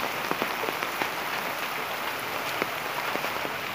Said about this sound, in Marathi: बापरे, जाम पाऊस आहे सकाळपासून.